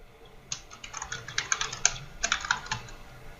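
Rapid typing on a computer keyboard while entering values into a data table, a steady run of close, crisp key clicks with two brief pauses, heard alone without talk.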